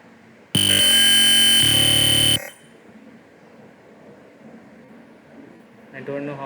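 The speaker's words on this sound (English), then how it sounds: "Using the button I am able to control the buzzer" A loud electronic buzzer alarm on a home automation soil-sensor setup blares for about two seconds, shifting tone midway, then cuts off, leaving quiet room noise and a brief voice at the end.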